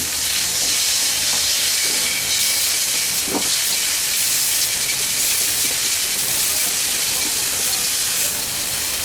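Chicken pieces with soy sauce frying in a pan, a loud, constant sizzle and hiss with small pops and crackles scattered through it.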